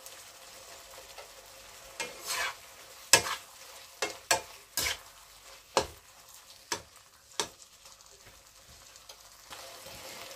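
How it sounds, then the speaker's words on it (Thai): Shelled, back-split shrimp are stir-fried in a small new pan, a soft steady sizzle punctuated by a dozen or so crisp, uneven spatula scrapes and clacks. "จากนั้นก็ใส่กุ้งค่ะ"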